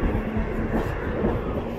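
A Mumbai suburban EMU train at Dadar station on the Central Railway gives a steady, close, low rumble that holds evenly throughout, with no voices.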